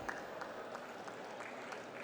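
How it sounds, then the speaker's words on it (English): Audience applause at a public event on accessible built environments in India, a steady, dense clapping wash that stays even for the whole two seconds at moderate distance, with no talk over it. "With a big roaring round of applause"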